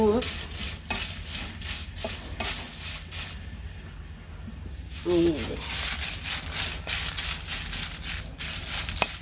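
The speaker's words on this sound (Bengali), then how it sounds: "কয়েকটা শুকনো মরিচ ভেজে নিলাম" Dry chillies crackle and sizzle in hot oil while a utensil stirs and scrapes the pan in uneven bursts; a voice is briefly audible.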